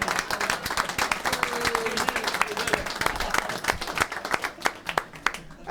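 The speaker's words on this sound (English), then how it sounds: "Give yourselves a hand" An audience applauds after a sing-along, steady close clapping from many hands that thins into scattered claps toward the end.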